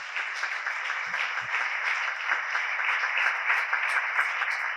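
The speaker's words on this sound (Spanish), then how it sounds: "recibimos entonces al doctor Roberto con un fuerte aplauso." Audience applause welcoming a speaker at a church charity course, a steady wash of clapping from a sizable group, even in loudness throughout with no talk.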